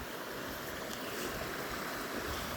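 A creek flows beside a forest trail crossed by many zigzagging bridges in a cedar grove, giving a steady, even rush of running water close by with no talk over it.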